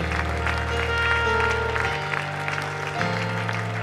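A church congregation clapping and cheering praise to the Lord, a dense continuous round of applause over sustained worship music.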